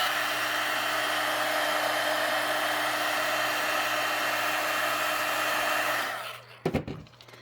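Heat tool blowing hot air over the lid of a Mod Podge jar to loosen it, a loud steady whirring roar that runs continuously for about six seconds before cutting off, followed by a few brief handling knocks.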